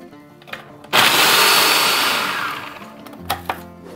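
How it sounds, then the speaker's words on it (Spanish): A kitchen blender grinds twelve Oreo cookies, starting abruptly with a loud whirring roar that runs about two seconds and gradually fades, followed by a few quick clatters. "Tenemos aquí las 12 galletas de Oreo que vamos a moler también."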